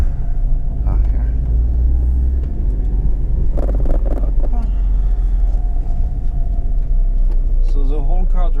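A 1990 Honda Acty van with a manual gearbox drives slowly around a parking lot. Its engine hums in a low, steady rumble with a few rattles, and someone talks over it.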